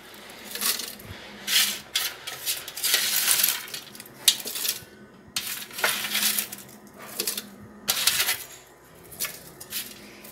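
Pieces of dried passion fruit peel drop into a kitchen blender jar in several separate bursts of rattling, clinking clatter, with short quiet gaps between handfuls.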